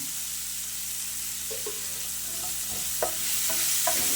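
Potatoes cooking with spices and kasuri methi in a pan give off a steady close sizzle, broken by several spoon scrapes and stirring knocks toward the end.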